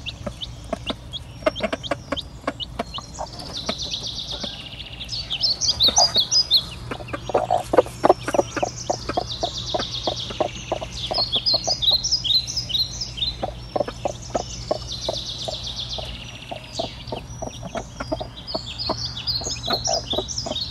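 A hen clucks steadily while her chick peeps and chirps high alongside, close and continuous, with repeated soft clucks in bursts over a faint low hum.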